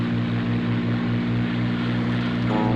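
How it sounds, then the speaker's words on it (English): A propeller plane in a video game drones steadily in flight, straining before a spin, with a loud, even engine hum and pulsing low throb that holds throughout, no voices. "those noises you hear is basically my plane protesting my flying"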